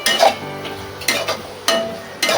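Masala stir-fried in a pan with a little asafoetida for leftover-rice kolim pickle rice, with a spatula scraping and stirring in several distinct bursts over a steady background sizzle.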